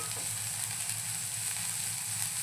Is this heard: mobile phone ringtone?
no